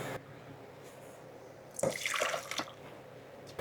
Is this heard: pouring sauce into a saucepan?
yes